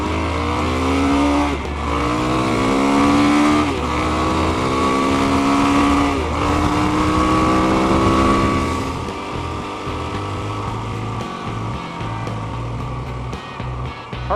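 A dual sport motorcycle rides on pavement, its engine note climbing through gears in repeated rising whines, then settling into a steadier lower drone with wind and road noise, close and loud throughout.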